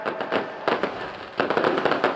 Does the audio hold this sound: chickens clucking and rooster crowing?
no